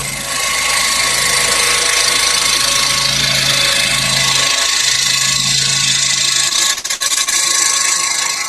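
Scroll saw fitted with a spiral blade cutting through wood, a steady loud motor whir with a continuous rasping cut that dips briefly near the end, no talking.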